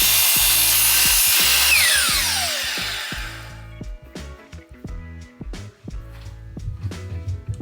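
A saw blade cuts through wood while a bookshelf is built, with a loud whining rip for about three seconds that winds down into rumbling, knocking and clattering of the wood and machine.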